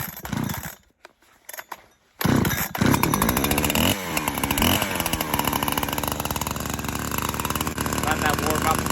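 A Husqvarna 372 XP clone chainsaw cuts dead ash: a few sputters and a brief pause, then the engine roars up loud and close and holds a steady, high, buzzing drone.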